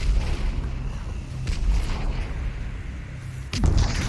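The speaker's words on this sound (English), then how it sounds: "Is that another zone grenade?" Zone grenade exploding in the VR battle royale game Population: One, heard as loud low booming blasts over a rumbling din, with a sharper burst near the end.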